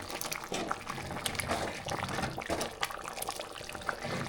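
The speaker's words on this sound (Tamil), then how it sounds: "திறந்து பார்க்கலாம் நல்லா கொதிச்சு இருக்கு" Sundakkai kuzhambu, a Tamil turkey berry curry with ground coconut, fennel and cumin, boils in an open pot with a steady, faint bubbling and soft popping, alone with no talking.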